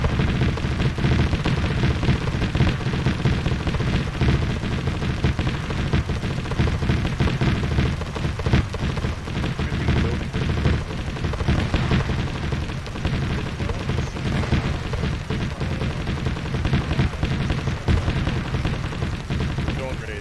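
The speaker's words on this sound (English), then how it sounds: "Oh, they're shooting through the walls again." Sustained, dense gunfire in Arma 3 with a Warhammer 40k setting, enemies shooting through walls, loud and continuous crackling shots with heavy rumbling impacts throughout.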